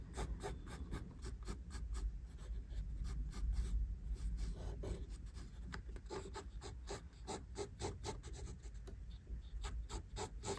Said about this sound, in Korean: 끝부분들을 날카롭게 그려줍니다.